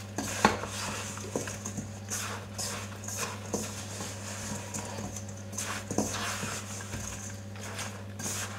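Pie filling for a patriotic flag pie is mixed in a bowl, giving repeated clinks and scrapes of a utensil against the dish over a steady low hum, with no talking.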